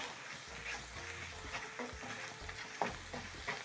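A spoon stirs table salt seasoning into fish in a frying pan, soft scraping strokes over a low, steady sizzle, close and fairly quiet.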